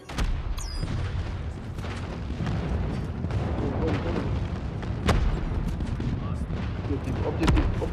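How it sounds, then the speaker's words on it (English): Scattered booms and crackling gunfire from a friendly airstrike in a Call of Duty Mobile ranked multiplayer match, with sharp blasts standing out over a steady rumbling battle bed. "Friendly airstrike incoming."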